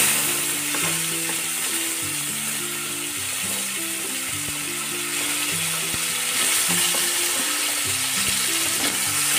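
Finely chopped tomato and onion fry in a pan for a dhaba-style chicken gravy, a loud continuous close sizzle with stirring clatter and a steady rhythmic hum underneath, no talking.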